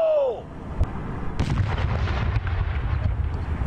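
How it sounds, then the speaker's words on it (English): A bomb squad detonates a firework explosive outdoors: one sudden heavy boom, followed by several seconds of rumbling, crackling echo that rolls on at a steady loud level. "State police and ATF officials used a bomb squad to detonate it."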